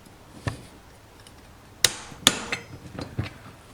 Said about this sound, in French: la clé s'est de nouveau déclenchée, le couple de serrage est correct